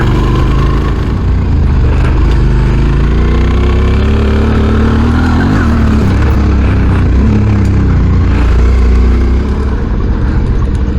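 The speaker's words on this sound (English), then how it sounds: "did the job and the bike's running great now" A motorbike engine runs loud and steady close by, with a continuous low drone that holds evenly throughout and no talking.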